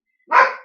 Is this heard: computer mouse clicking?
no